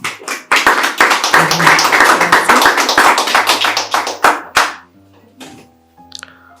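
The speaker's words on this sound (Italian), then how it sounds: "Applauso." An audience applauds at a poetry book presentation for the Collana Poetica Vie vol. 4, a dense burst of close clapping that tapers into scattered claps and dies out, followed by a few faint small noises.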